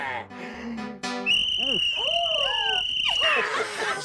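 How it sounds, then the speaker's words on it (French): A shrill whistle is blown in one long, steady blast, with voices talking just before and animated chatter around it. "J'adore ce sifflet."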